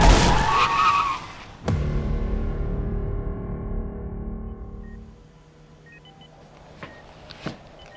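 A car skids with a brief tire squeal, then a sharp impact and a long ringing, fading resonance, followed by a few faint clicks and knocks in a quieter tail.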